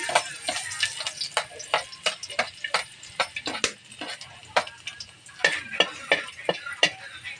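Garlic dropped into a hot pan for a Filipino coconut-milk dish, crackling and popping in sharp irregular ticks over a soft sizzle, close and fairly loud.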